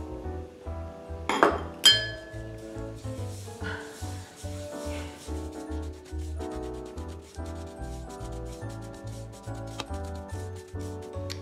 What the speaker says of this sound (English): Now I'm gonna add our one cup of white sugar.